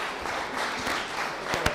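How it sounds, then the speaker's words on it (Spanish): A school audience at a human rights talk breaks into steady applause, a dense even wash of clapping throughout with a few sharper claps near the end. "Un aplauso, por favor."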